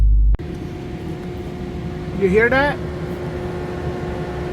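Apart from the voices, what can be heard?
Dodge SRT race cool down cooling system running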